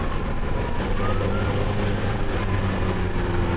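Ambulance siren in traffic, a continuous wailing tone under steady road and engine rumble heard from a moving vehicle, loud and sustained throughout.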